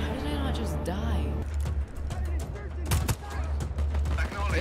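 Sharp gunshots crack amid explosions and game noise in Just Cause 4, several bursts close and loud, with someone talking over them.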